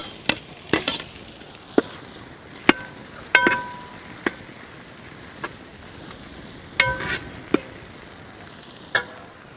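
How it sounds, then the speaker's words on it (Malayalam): Crushed ginger and garlic fry in hot oil with a constant crackling sizzle, while a spoon knocks and scrapes against the pan in irregular sharp clacks, close and fairly loud. "ഇഞ്ചി വെളുത്തുള്ളി ഒന്ന് മൂത്ത് വരട്ടെ."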